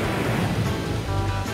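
Ocean surf breaking on a Malibu beach below a raised lap pool, a steady loud wash of waves rolling in without pause, close and continuous with no voices.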